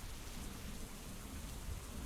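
Steady rain and a low rumble of thunder from a stormy battlefield in the Hex of Steel war strategy game, an even wash of rainfall running throughout with a deeper roll underneath, no voices.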